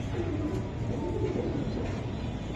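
Racing pigeons, Budapest-type birds kept for sale, give low, soft cooing close by over steady background noise, with no talk.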